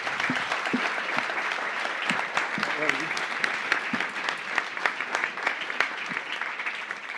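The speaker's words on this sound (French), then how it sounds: "Une bonne main d'applaudissements." Sustained applause from a crowd at a housing forum discussion workshop, dense clapping throughout with a few louder individual claps standing out.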